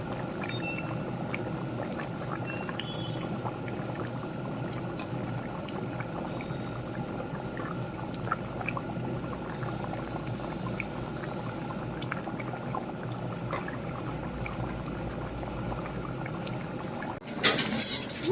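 Rohu and mirga fish pieces go into a simmering curry of water, potatoes, tomatoes and bhol, giving a steady bubbling and liquid churn that runs close and even throughout, with a brief clatter near the end.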